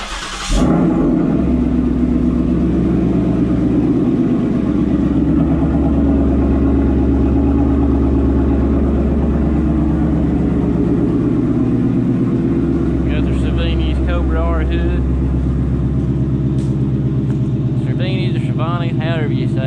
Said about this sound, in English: Show you what the AWE catback sounds like.